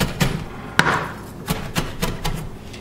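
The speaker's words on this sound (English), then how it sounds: "Just rough chop them." A knife rough-chopping fresh herbs on a cutting board, six or seven distinct thudding chops at an uneven rhythm, close and fairly loud with no one talking.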